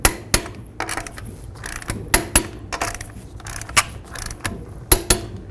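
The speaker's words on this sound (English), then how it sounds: "make sure you torque your lug nuts in a crisscross manner to 100 foot-pounds" Clicks and metallic ratcheting from a torque wrench tightening lug nuts on a 2005-14 Ford Mustang, sharp separate snaps at irregular intervals with clanks between, close by, no talking.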